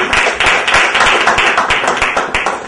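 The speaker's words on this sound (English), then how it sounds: "Let's give a round of applause, guys." Applause from a training seminar audience for a speaker, loud close clapping with distinct hand strikes in a quick, fairly regular rhythm, no speech over it.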